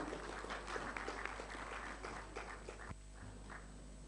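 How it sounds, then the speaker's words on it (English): Applause from a youth audience at a Nigerian presidential debate, a dense steady clapping over a constant electrical hum that thins out partway through, with no voices. "A round of applause for him, please"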